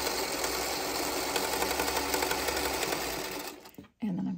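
A sewing machine runs steadily at close range, stitching quilt block pieces in a continuous whir for several seconds before stopping abruptly, followed by a brief handling sound.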